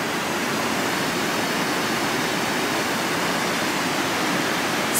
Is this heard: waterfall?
yes